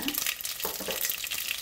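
Cumin, urad dal and fenugreek seeds sputtering and crackling in hot oil, a dense sizzle with small pops and stirring scrapes, close and steady, no voices.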